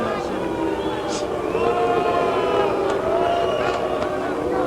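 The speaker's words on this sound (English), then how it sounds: "Now the crowd is voicing some dissatisfaction with the performance" A boxing arena crowd grumbles and murmurs in dissatisfaction, a steady dense babble of many voices with scattered whistles, heard at a distance.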